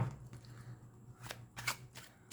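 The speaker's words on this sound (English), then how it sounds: "shuffle with intention for pile" Oracle cards being shuffled by hand, a soft papery riffle with a few sharper bursts of cards slapping together near the end, close and fairly quiet.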